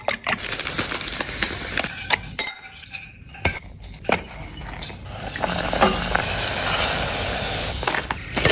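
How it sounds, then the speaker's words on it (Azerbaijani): Panko-coated chocolate bread deep-frying in hot oil gives a steady, close sizzle that builds over the second half, after a few sharp clinks and clatters of utensils early on. "sonra dərin yağda qızardın"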